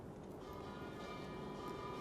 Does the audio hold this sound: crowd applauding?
no